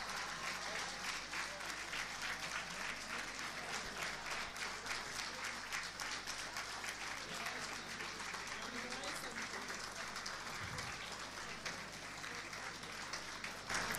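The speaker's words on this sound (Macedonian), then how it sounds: "овие френетични аплаузи се кажуваат само за миг" Frenetic applause at a hospital award ceremony for the Plodnost hospital, a dense, sustained roar of many hands clapping without pause, steady and unbroken throughout.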